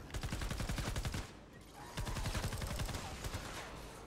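Rapid automatic gunfire rattles in the Fortnite Save the World video game. Two sustained bursts of sharp, evenly spaced shots are split by a brief pause and sound loud and close.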